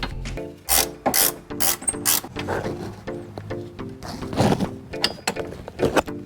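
A ratchet wrench tightening brake caliper bolts on a BA/BF Ford Falcon, rapid loud clicking bursts in repeated strokes with short pauses between, close up and with no talking.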